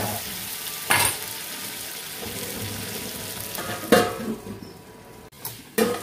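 Jackfruit curry masala fries in a covered pan over lowered gas, giving a continuous close sizzle. Sharp clanks of lid or spoon against the pan break in three times.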